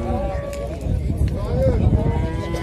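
A cow at a livestock market in Jalal-Abad gives a low moo amid the busy bazaar, close by, while people talk around it.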